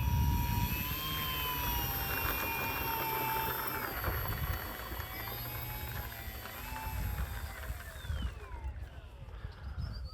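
An electric E-flite RJG Decathlon RC airplane on a 4S 2200 battery whines steadily overhead, its motor pitch sliding up and down as it circles in to land, fading toward the end over outdoor background noise.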